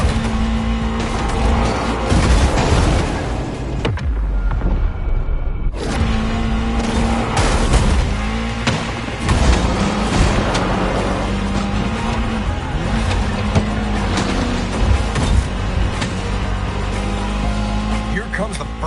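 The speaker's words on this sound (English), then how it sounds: "we got you an Austin Mini Cooper S" An Austin Mini Cooper S tears through a movie stunt scene: a loud, busy engine that revs and drops, tyre squeals, skids and occasional heavy thumps, with voices talking over much of it.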